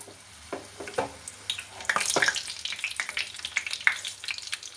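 Egg potato cutlets coated in bread crumbs fry in oil, a moderate sizzle with scattered crackles and pops that grows busier as more pieces go in.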